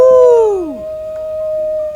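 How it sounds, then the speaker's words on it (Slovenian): A wolf howls once in a long, falling cry that sweeps downward and fades after about a second, leaving a steady thin tone and soft background. It works as a sound effect for a children's story. "skočil po konci in s strašnim tuljenjem planil na živali"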